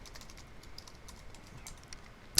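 A computer keyboard being typed on to enter a VTP password for a Cisco switch: soft, quick key taps in a light run, close by, ending with a sharper louder keystroke.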